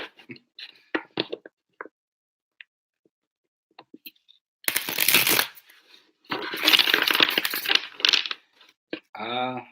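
A deck of large angel oracle cards being shuffled by hand, two loud papery riffling bursts in the second half, after a stretch of quiet speech and a few faint clicks.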